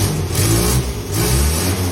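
Engine of a Morris 1000 car running close by and loud, its note rising and falling through a couple of revs over a steady idle rumble.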